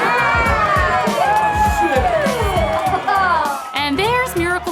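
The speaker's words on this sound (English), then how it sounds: "The crowd erupts with uniform party vibes." A packed party crowd of underage kids at a Christmas bash erupts into loud cheering and shouting, a dense wall of whoops and voices over a thumping beat.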